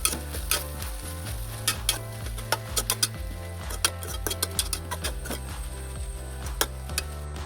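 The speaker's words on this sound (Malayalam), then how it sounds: "ഇതിനെ ജസ്റ്റ് ഒന്ന് ഇളക്കി കൊടുക്കാം" A spoon stirs okra and grated coconut stir-fry in a pan, giving repeated scraping clatters with a soft sizzle underneath, steady and close with no talking.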